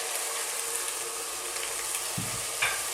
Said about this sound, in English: Simply, we're now going to add a little bit of water,